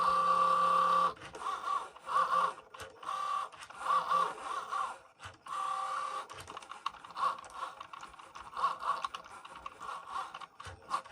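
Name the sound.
Cricut Joy cutting machine running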